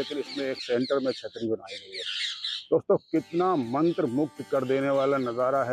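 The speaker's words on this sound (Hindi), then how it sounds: "तोतों की आवाज़ें आप सुनाई दे रही होंगे" Parrots squawk in harsh, raspy bursts at the Purana Qila fort in Delhi, close and frequent, while someone talks over them throughout.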